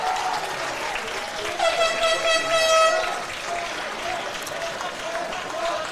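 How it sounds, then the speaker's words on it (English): A crowd at a high school baseball game between John Curtis and Rummel gives a steady round of applause as the pitcher leaves, a sustained wash of clapping with a horn-like tone sounding through the middle. "Nugent gets a round of applause as he departs"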